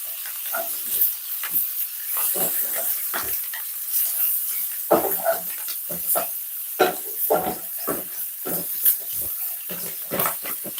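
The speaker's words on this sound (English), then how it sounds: "Just stirring them because we're just catching some lovely color on this." Curry chicken browns in a hot pan, sizzling with repeated scraping and stirring strokes, close and uneven in rhythm, without talk.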